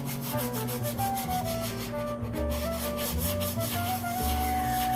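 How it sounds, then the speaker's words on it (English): A scrubby sponge rubbing very lightly over a scrap 4x4 wood block for a vintage pumpkin craft, giving a steady, close, continuous scratchy swishing in short repeated strokes, with no talk. "I can take my sponge, wipe a little more gently, take the scrubby side"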